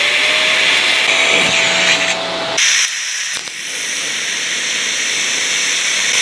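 TIG tack welding on a sailboat foresail fitting, a loud steady hiss and buzz of the arc with a brief drop and change partway through, close and continuous with no talking.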